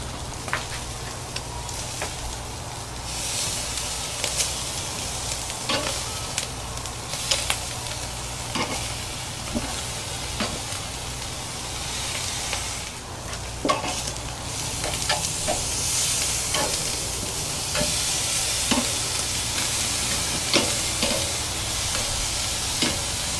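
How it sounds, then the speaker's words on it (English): A rack of lamb sizzles steadily on a grill, a continuous close hiss and crackle broken by scattered pops and light clicks, with no voices over it. "I'm actually going to be grilling these on all 4 sides rather than just the 2."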